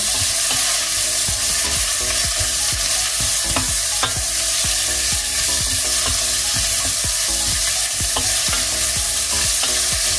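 Onions with garlic frying in a pan for chicken curry, stirred quickly to keep them from burning: a loud, continuous close sizzle with frequent scraping and knocking of the utensil against the pan.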